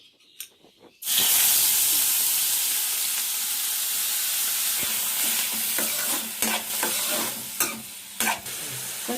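Garlic, coriander, cumin and pepper frying in hot oil in a pan for a prawn and ridge gourd curry, a loud steady sizzle that bursts in after a quiet start, with scraping stirs and small clatters over it.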